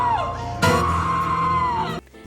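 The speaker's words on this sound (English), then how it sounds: "This version is an example of perfect television from start to finish, right down to Mary Ellen Trainor's scream." A woman's loud, sustained scream from a Christmas horror film, a single high wailing cry lasting over a second that rises sharply and then cuts off abruptly.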